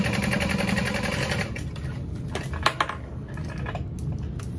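Sewing machine topstitching a backpack seam, a steady rapid mechanical chatter of the needle that runs evenly, then continues more loosely with small clicks and handling noises close by.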